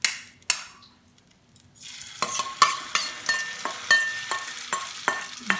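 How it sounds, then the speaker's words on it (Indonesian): Noodle and egg mixture for a cheese omelet going into hot oil. A sharp sizzle flares up, then comes a run of rhythmic clinks and scrapes of a utensil against the pan, close by and with no talking. "kalau udah panas minyaknya, langsung aja kita masukin mie yang tadi yang udah kita campurin sama bahan-bahannya"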